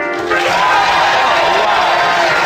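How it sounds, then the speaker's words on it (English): A studio audience breaks into a loud, dense round of applause mixed with cheering, a continuous roar that starts abruptly and holds at full strength. "give me a round of applause now"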